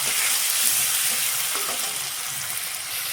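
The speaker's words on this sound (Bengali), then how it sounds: "পেঁয়াজের সাথে টমেটো কুচিটা ভালো করে ভেজে নিব।" Onion and chopped tomato frying together in a pan for an egg curry, a dense continuous sizzle with faint stirring scrapes, close and steady throughout with no talking.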